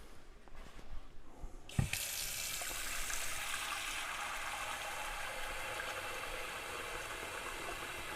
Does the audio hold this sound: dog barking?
no